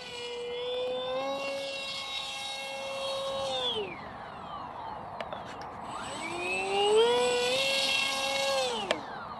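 A Modster Easy Trainer 1280 RC airplane's motor whines through aerobatic passes, including a power loop. Its buzzing pitch holds steady, then drops away and rises again as the plane swings past, fairly close and alone.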